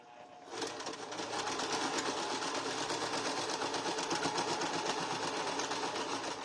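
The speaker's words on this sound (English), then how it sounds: "I don't sew too fast on my table. It's just a little folding table, and my machine bounces." A sewing machine stitches fabric on a small folding table, its motor whirring loud and steady with a fast mechanical rattle that starts after a brief pause and runs on without talk.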